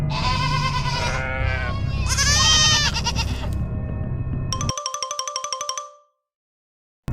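A goat bleats at night in a series of loud, wavering cries up close. The bleating is followed by a run of bright, rhythmic electronic beeps, then silence.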